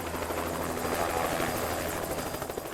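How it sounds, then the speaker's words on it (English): A helicopter approaches over a forest river, its steady rotor chop and engine whine filling the air as a continuous, fairly loud drone with a low rhythmic throb. "we hear his helicopter before we see it"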